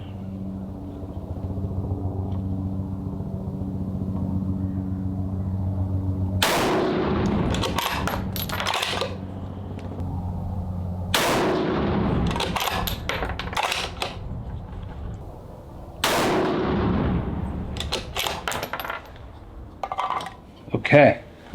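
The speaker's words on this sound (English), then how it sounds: "switch to the Picatinny's, we'll keep shooting." Three sharp, loud rifle shots ring out at steady intervals during a bipod comparison shootout at a range, each blast trailing into echo and clatter, with a low mechanical hum underneath and brief talk between shots.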